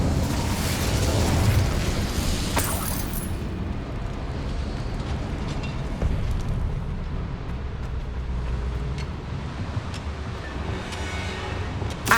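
An Incendio fire spell in Hogwarts Legacy gives a loud, sustained rushing burst of flame that roars broadly for several seconds, then settles into a steady lower rumble with a few faint pops.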